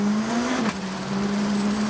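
Carl Kruder's S2000 rally car launches off the start line on the Cyprus Rally stage, a steady engine drone with a brief rising rev and a short dip before it holds its pitch.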